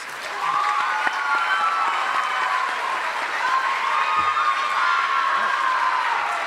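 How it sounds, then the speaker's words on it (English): A crowd at a junior high school awards ceremony gives a final round of applause, steady dense clapping with a few faint cheers and whoops mixed in, sustained at an even level. "Let's give them a final round of applause."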